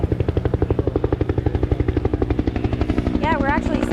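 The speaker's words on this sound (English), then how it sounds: "You can see the helicopter overhead right now." A helicopter circles overhead at a brush fire forcing evacuations, its rotor beating in a loud, fast, steady thump throughout, with a voice briefly heard near the end.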